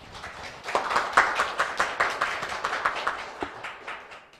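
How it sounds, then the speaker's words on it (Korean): A small assembly hall audience at a nursing association general meeting welcoming a councillor with applause, distinct individual claps in a loose rhythm, moderately close and fading toward the end. "한경애 의원님을 큰 박수로 맞아주시기 바랍니다"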